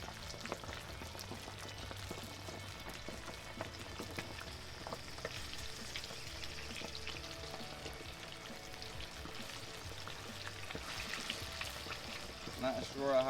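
Chicken wings fry in hot grease with a steady, dense sizzle and crackle that holds throughout at moderate level, rising slightly near the end.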